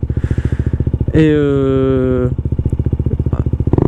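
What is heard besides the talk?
motorcycle riding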